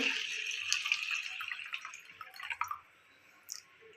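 Water pours in a close, splashing stream onto washed lentils and rice in a bowl for a few seconds, then tapers off into a few faint drips.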